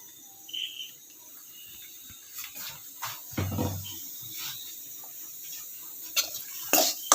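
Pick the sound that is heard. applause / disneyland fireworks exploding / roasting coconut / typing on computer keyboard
roasting coconut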